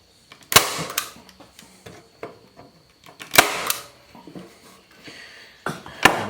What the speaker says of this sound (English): So we're just going to staple these bad boys on here real good.